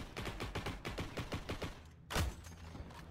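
A revolver fires in Heroes & Generals, a World War II shooter, as a quick run of evenly spaced shots cracks out in steady rhythm, followed by one louder, heavier blast after a short pause. No talk is heard.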